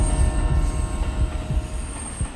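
A train passes close by in a continuous loud rumble, with rhythmic wheel thumps and a high, steady metallic squeal from the wheels.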